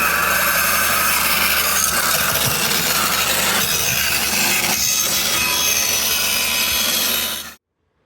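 A band saw cuts through a chunk of beach plastic, a steady loud grinding rasp with rough wood-like scraping that runs continuously for about seven seconds before stopping abruptly.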